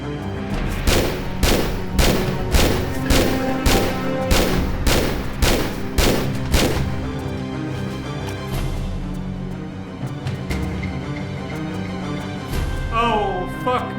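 Repeated gunshots in Tomb Raider Remastered ring out in a steady rhythm of about ten sharp, loud blasts, then give way to a quieter game soundscape with scattered clicks.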